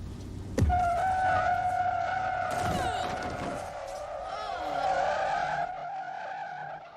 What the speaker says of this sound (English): Hey, that's the longest skid in the history.